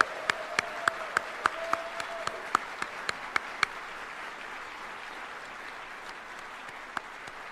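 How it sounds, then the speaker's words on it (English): Sparse, distinct claps ring out at a military retirement ceremony for soldiers, about a dozen sharp hand claps in an uneven rhythm over the first few seconds, then a quieter room with one late clap. "A round of applause for all these great soldiers out here."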